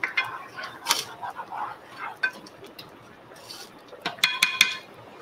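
A sauce thickened with cornstarch is stirred in a pan, giving scattered soft scrapes and a few light metallic clinks of a utensil against the pan, close and quiet, with no talk.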